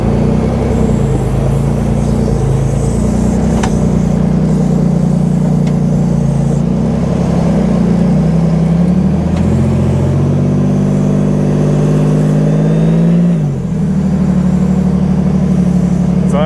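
A rear steer buggy engine works hard while rock crawling on a Sand Hollow trail, a loud, continuous low drone that rises and falls as the throttle changes, with a brief dip near the end.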